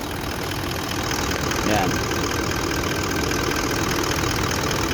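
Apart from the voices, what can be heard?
Toyota Land Cruiser engine idling quietly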